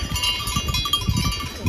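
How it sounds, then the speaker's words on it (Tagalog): Goat with unusually long horns at a mountain nature park in the Aosta Valley, bleating close by over steady outdoor ambience, with a faint clanking that could be a livestock bell. "Goat."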